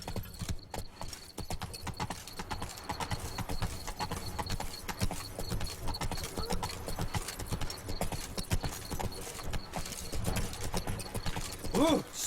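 Hooves of a horse galloping in The Witcher 3 pound in a rapid, continuous clip-clop rhythm, loud and close, with game ambience layered underneath and a brief whinny near the end.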